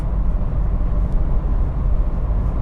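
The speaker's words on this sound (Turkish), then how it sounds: "lastik sesi biraz hala geliyor. Birazcık da rüzgar sesi başladı." Inside a BMW 418i Prestige F36 cruising at 110 km/h, a steady low road roar of tire noise blends with rising wind rush, constant and fairly loud with no talking.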